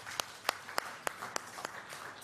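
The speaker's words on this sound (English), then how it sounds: "We should be proud and clap for it." A conference audience claps at a national SDGs launch, with a handful of sharp, evenly spaced claps over a faint wash of scattered applause, fairly quiet and alone.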